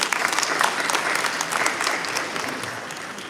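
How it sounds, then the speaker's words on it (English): Hall audience at a Bharatanatyam dance arangetram claps in a steady, dense round of applause, fairly close and even, tapering slightly toward the end. "Let's give a round of applause to Kripa Aunty."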